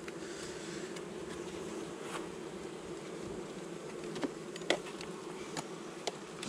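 Honey bees buzz steadily at an open hive during an August honey harvest, a continuous droning hum with a few sharper individual bees passing close to the microphone.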